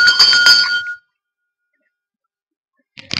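A temple bell is struck in a short burst of bright, ringing metallic tones up close, then silence, then a faint clanging returns at the end.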